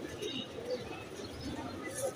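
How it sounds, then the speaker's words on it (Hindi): Pigeons coo softly and repeatedly close by, with faint background chatter. "ये मेरे घर के कबूतर"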